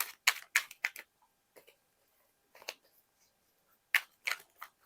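Tarot cards being shuffled by hand, short crisp bursts of riffling and slapping in quick clusters separated by pauses, close and quiet with no talk.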